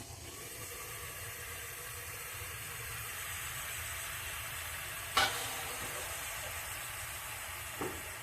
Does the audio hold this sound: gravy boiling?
yes